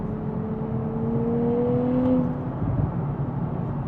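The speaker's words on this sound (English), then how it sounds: "then you hear the burbles out of the exhaust" Exhaust burbles from a Nissan Nismo Z: a steady, close, low rumble with a faint tonal whine, breaking into an uneven crackling burble toward the end.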